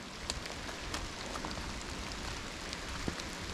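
Rain falls on a spring homestead as a soft, steady patter, faint and close, with scattered sharper drips ticking over the hiss.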